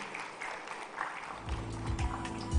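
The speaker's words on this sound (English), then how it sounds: "Can we give a huge round of applause as we welcome her on the stage" Audience applause welcoming the Vice President and Head of Human Resources of PayPal India onto a tech conference stage: a steady wash of clapping that swells toward the end, joined by a low rumbling hum in the second half.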